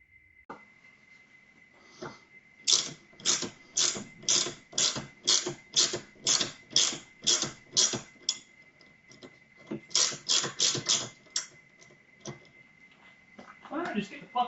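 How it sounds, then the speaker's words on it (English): A thread is tapped by hand for a spindle bolt on an electric zero-turn mower; a sharp ratcheting tick repeats in close, evenly spaced bursts, pausing midway, over a faint steady whine. "Tapping the thread for the spindle bolt."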